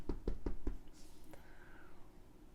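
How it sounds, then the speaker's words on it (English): Four quick, hollow knocks on a door in an even rhythm, close and distinct, followed by a faint creak and low room noise. "there's a knock on the door"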